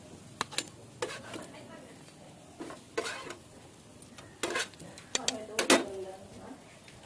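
Utensils clink and scrape against a plate as pieces of egg toast are lifted onto it, a series of short, close metallic taps and knocks with quiet gaps between them.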